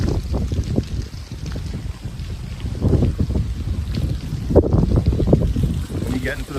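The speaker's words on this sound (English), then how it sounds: "Really windy in this area." Strong wind buffets the microphone in the Vacaville wildfire zone during the LNU Lightning Complex Fire, a loud, continuous low rumble that surges in gusts.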